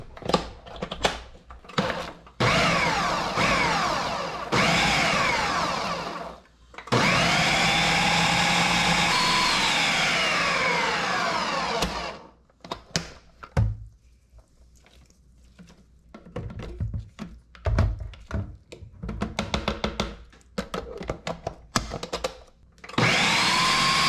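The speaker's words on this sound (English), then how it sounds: "now let's blend it up" A blender whirring through homemade sriracha ingredients including sugar and water, loud motor runs in repeated pulses, some long and some short, separated by brief pauses.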